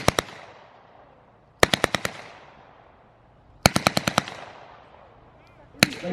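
Bursts of automatic fire from an MP40 submachine gun at a wartime Britain display: a quick double shot, then two rapid strings of five or six loud rounds, each trailing into outdoor echo, and a single final shot.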